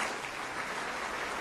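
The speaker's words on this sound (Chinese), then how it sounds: "掌声有请" Audience applause at a televised singing show, a steady even wash of clapping from a crowd, fairly quiet and continuous with no voices over it.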